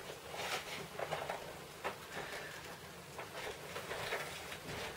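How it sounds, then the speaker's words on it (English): Rain falls steadily during an evening storm, a soft continuous patter with occasional sharper drops, quiet and even throughout. "I was feeling contemplative this evening, and then it started to rain."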